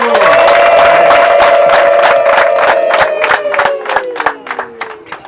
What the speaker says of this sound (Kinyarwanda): amashyi n'impundu abatanga muntu